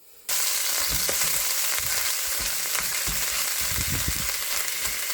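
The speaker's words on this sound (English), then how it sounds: "First step is going to get the hamburger browning." Hamburger meat browns in a pan with a sudden onset of steady, loud sizzling and frying hiss, punctuated by soft stirring and scraping sounds up close, no voices.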